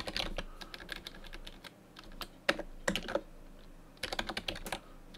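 Names are typed on a computer keyboard in quick irregular bursts of key clicks separated by short pauses, close and fairly quiet, with no voices.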